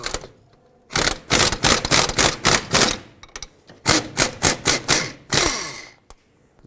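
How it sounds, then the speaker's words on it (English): A wrench on a stuck bolt in the steering knuckle of a 2003–2007 Nissan Murano gives several close, loud bursts of rapid ratcheting clicks, separated by short pauses. "you take a wrench and you basically unthread the bolt as you press on the wrench"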